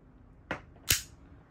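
AW Custom HX2201 Hi-Capa airsoft pistol fires two sharp, snappy shots close by, about half a second apart, the second louder, with quiet in between.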